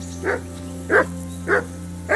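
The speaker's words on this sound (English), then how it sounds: "Whistle at that mutt of yours to stop barking." In the medieval game Kingdom Come: Deliverance II, a dog barks three times in a steady rhythm, sharp and close, over a low humming tonal background.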